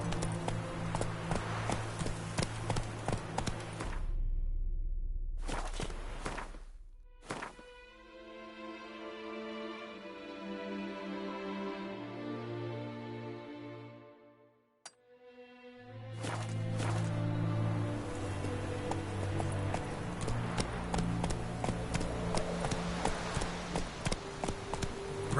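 Roach, a horse in The Witcher 3, gallops in quick repeated hoofbeats, fades under a stretch of music, then returns as a rapid close clip-clop.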